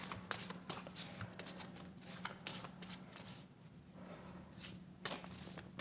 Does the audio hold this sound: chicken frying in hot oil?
no